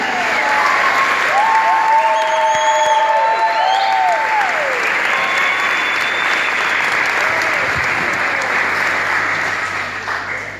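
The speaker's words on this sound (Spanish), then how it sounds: "¿Cuántos pueden dar un aplauso al Señor por eso?" Sustained applause from a large church audience, dense clapping that stays strong, then tapers slightly at the end, with scattered cheers and a held musical tone beneath.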